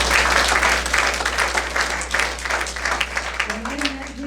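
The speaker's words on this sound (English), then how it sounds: "Please give him another round of applause." A crowd at a meeting applauds steadily, a dense wash of clapping that holds throughout and begins to thin toward the end.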